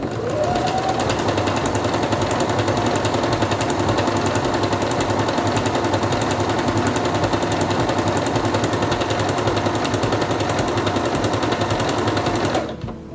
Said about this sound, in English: Put your fabric under the presser foot, lower it, and begin sewing.